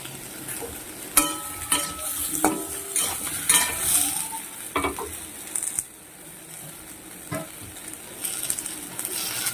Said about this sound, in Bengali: ঝিঙেটাকে বেশি করে ভাজবো না এবারে সাথে কাঁচা লঙ্কা দিয়ে দিচ্ছি